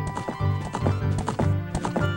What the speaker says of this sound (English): all I gotta do is jump over the fence. And then I get my horse.